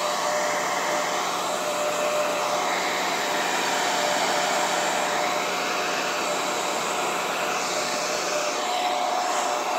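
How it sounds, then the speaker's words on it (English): A hair dryer runs on its low setting, blowing over acrylic paint with a steady, continuous whir and hiss that stays close and even for about ten seconds. "Now we get our hair dryer and we're going to get going with this on low."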